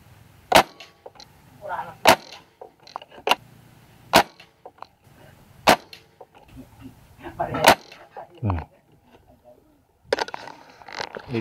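An air rifle fires pellets at a target about every one to one and a half seconds, sharp close cracks in a steady series, with quieter handling noises in between and a denser burst of shots near the end.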